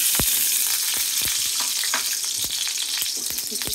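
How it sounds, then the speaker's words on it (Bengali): Ghee heating in a wok, a steady close crackling sizzle with rapid sharp pops and spits throughout. "কড়াই বসিয়ে দিছি, তার মধ্যে দিয়ে দিলাম ঘি"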